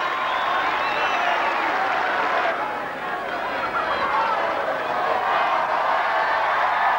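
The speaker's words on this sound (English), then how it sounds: "Some of the most rapturous applause was reserved for the little Australian, Jamie Sandy" Crowd of nearly 4,000 applauding at a 1986 rugby league Challenge Cup celebration, a broad continuous wash of clapping and crowd noise, steady and moderately distant, with murmured voices mixed in.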